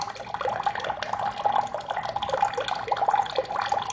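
Water runs from a tap into a basin in a steady splashing stream with small trickles and drips, moderately loud and close, with no talking.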